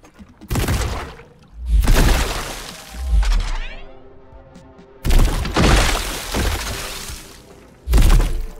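Glob shots fired from a slimy talking gun in the video game High On Life, several loud splattering bursts with gaps of quieter ambience between them.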